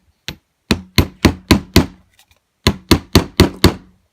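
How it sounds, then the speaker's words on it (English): A jewelry hammer gently taps a wire earring hook resting on a small jewelry anvil, giving two quick bursts of sharp metallic strikes, one lone tap followed by a run of five, then another run of five, close and clear with no talking. "I'm going to hammer on it. And what this does is it work hardens the earring."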